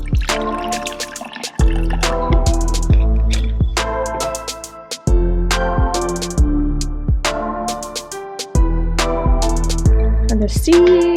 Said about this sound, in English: Let's give this peace lily over here some water probably.